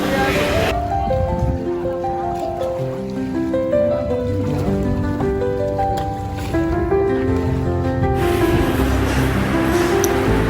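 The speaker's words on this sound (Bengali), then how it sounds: "আমরা যে ট্রলারটিতে বসেছিলাম, মূলত এই ট্রলারটি ছিল একটা মাছ ধরার নৌকা।" A motorised fishing trawler crossing the Padma river chugs with a steady, loud engine drone, and people talk over it throughout.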